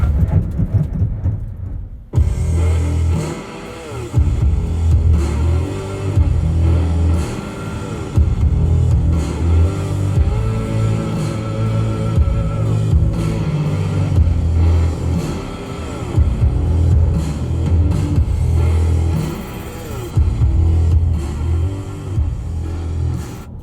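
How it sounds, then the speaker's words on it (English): A 2022 Nissan Frontier PRO-4X pickup accelerates hard from a standstill up a hill, its engine rising loud and close after a brief quiet start, pitch climbing and dropping through repeated gear changes with a steady cabin rumble. "Do a quick braking test in 0 to 60 up this hill."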